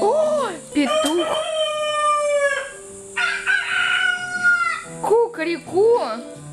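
Crowing rooster sounds over a voice, with a cock-a-doodle-doo rising and falling several times; it may be a voice imitating the crow.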